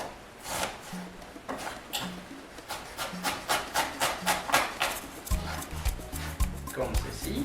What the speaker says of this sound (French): l'oignon, on va le hacher finement